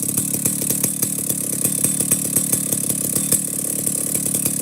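A ported Stihl 050 chainsaw with a lightened piston and an old-school muffler idles steadily, close by and alone, a smooth even burble with a light rhythmic ticking running through it.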